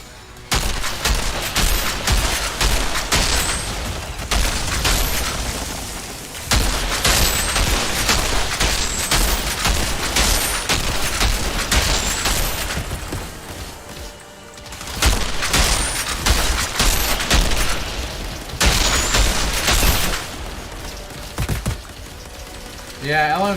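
Light machine gun fire in the Outriders video game, long loud bursts of rapid shots separated by brief lulls, with clattering impacts and explosions mixed in.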